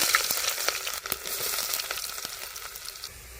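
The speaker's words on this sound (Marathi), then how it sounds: "पातेल्यामधलं तेल गरम झालंय बारीक कांदा" Hot oil sizzles and crackles around chopped onion in a pan, with several sharp pops and light scraping, close and continuous.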